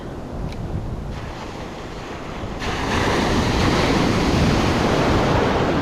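Ocean surf roaring steadily with heavy wind noise buffeting the microphone, swelling louder partway through, no voices.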